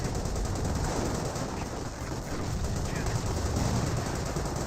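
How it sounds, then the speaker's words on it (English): A Flak 88 gun fires in the Company of Heroes battle game amid a dense, continuous clatter of battlefield fire, with a voice talking over the steady barrage. "Flak 88 firing away"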